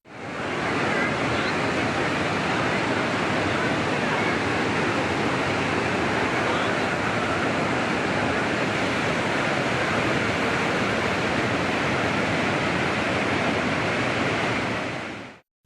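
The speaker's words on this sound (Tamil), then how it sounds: "பஞ்சலிங்க அருவியால் காட்டாற்று வெள்ளம் ஏற்பட்டு மலையடிவாரத்தில் உள்ள கோயிலை வெள்ளம் சூழ்ந்தது" Flash flood water pours down from Panchalinga waterfall on Thirumoorthy hill after heavy rain, a dense, steady roar of rushing torrent that stays loud and unbroken throughout before cutting off abruptly.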